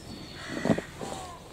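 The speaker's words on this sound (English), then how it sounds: "you hear all those birds in that rookery, loads of crows" Crows caw from a rookery beside the Llangollen Canal, heard as a few harsh calls at mid-distance over a steady outdoor background hiss.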